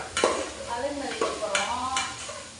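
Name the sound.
sautéing and stirring in a pan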